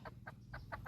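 A red chicken offered in a tribal prayer ritual clucks in a quick series of five short, soft clucks, heard faintly and close with a low background hum.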